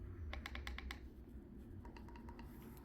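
The buttons on Ecoute TH1 headphones are pressed repeatedly, giving a quick run of crisp, close clicks, then a second sparser series, over a low background hum.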